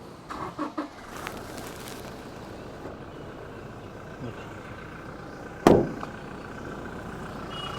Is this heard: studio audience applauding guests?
no